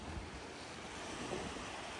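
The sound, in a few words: fast-flowing floodwater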